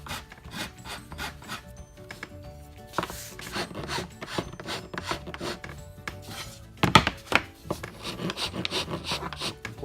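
Hand sanding along the edge of veneer edge banding on a panel, giving repeated scratchy rubbing strokes in a steady back-and-forth rhythm, close and moderately loud, with a sharper burst of strokes partway through and no voices.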